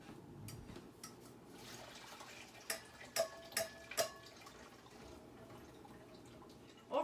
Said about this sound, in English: Then I'm gonna drain the dandelions really quick.